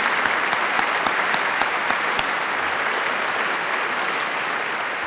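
Sustained applause from a crowd, dense steady clapping that holds at an even level throughout.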